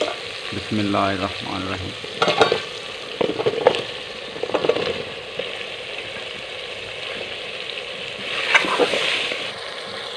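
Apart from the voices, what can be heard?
frying potatoes in masala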